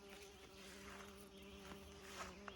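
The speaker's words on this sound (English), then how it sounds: "Oh, here's another bee." A bee buzzes in a greenhouse beside a rhubarb patch, making a faint, steady, continuous hum that lasts throughout with no talk.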